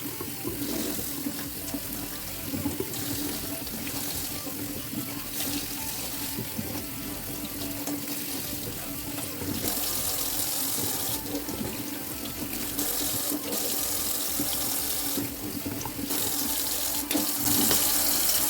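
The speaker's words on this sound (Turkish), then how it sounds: "Tek tek ılık suda bunları duruluyoruz." Liver pieces are rinsed one by one under warm running tap water, a steady close splashing stream into the sink that continues throughout with slight surges, no voices.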